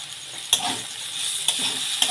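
Mustard and cumin paste sizzles in hot oil in a pan, a constant close frying hiss broken by three sharp spoon scrapes or taps at roughly even intervals.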